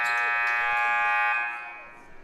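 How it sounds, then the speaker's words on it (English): A single errant buzzer sounds in a gym during a girls' high school basketball game, a loud sustained electronic tone that holds for over a second and then fades away. "An errant buzzer goes off here"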